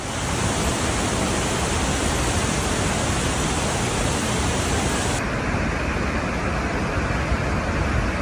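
Waterfall roaring as a dense, constant wall of rushing water, loud and unbroken throughout, with no voices.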